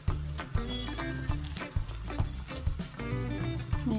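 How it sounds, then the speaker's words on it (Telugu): Tomato pieces, from a single tomato, frying in a pan for a puffed-rice snack, a steady close sizzle with light clinks and stirring throughout, over a background of tonal music. "ఇందులో టమాటా ముక్కలు, ఒకటే టమాటా వేసాను నేను."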